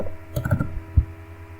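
A few quick, close clicks of keys being pressed on a keyboard in a brief burst, then quiet.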